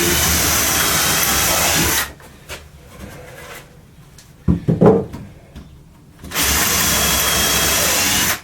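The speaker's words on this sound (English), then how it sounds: "you can use a HSS bit to drill wood, it's fine." A power drill with an HSS bit whirs loudly into scrap wood for two seconds, pauses amid quiet handling noises and a short bump, then starts drilling again at full speed.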